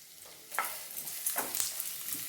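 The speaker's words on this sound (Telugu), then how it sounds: "దాన్ని కొంచెంసేపు అట్లా వేపుకుందాము" Chopped onions fry in a pan with a close crackling sizzle, broken by a few scraping strokes of a spatula stirring them.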